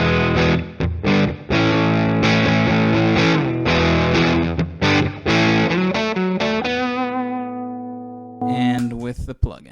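An electric guitar plays through a distortion pedal with an impulse response and reverb added. Loud chords and riffs ring out, and the final chord sustains and decays into a reverb tail before a short scratchy noise at the end.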